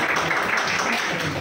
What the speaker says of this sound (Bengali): চন্দনের জন্য হাততালি